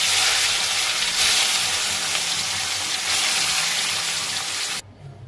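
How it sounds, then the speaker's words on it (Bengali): Rui fish pieces fry in hot oil in a pot, giving a loud, steady broadband sizzle that cuts off abruptly near the end. "তেল গরম হওয়ার পর মাছের পিসগুলো দিয়ে দেব।"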